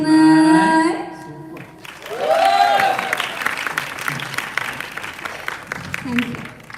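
Audience applause and cheering after a stage dance performance at a film trailer launch event, clapping rising after the music ends and carrying on under a voice speaking through a loudspeaker.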